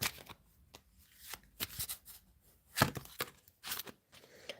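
Tarot cards are shuffled and handled up close in a quiet room, producing short, irregular bursts of crisp riffling and flicking with brief pauses between them.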